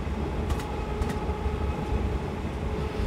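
A train runs in Train Simulator 2018, giving a continuous low rumbling drone of wheels and motors with a faint steady hum and a few light clicks, with no talking.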